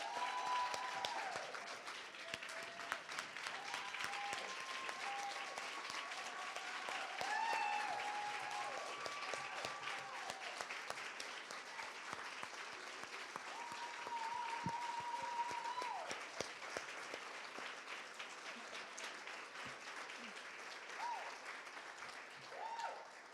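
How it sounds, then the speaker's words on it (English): Sustained audience applause for award honorees at a celebration event, a dense steady wash of clapping lasting the whole stretch, with scattered voices and faint tonal cheers mixed in, tapering slightly near the end. "join me in giving another round of applause"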